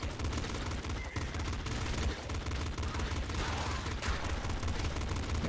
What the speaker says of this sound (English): Shots coming from everywhere.